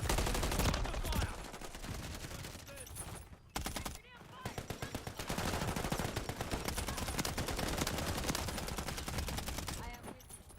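Rapid automatic gunfire from Call of Duty Modern Warfare 3 rattles loudly and almost continuously, with dense bursts, brief pauses, and overlapping shots, plus some game voice chatter in the background.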